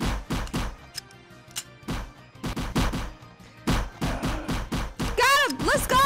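Gunfire in a Roblox zombie outbreak game: rapid bursts of sharp shots fire in quick succession throughout, loud and close, ending with a warbling, rising-and-falling electronic tone.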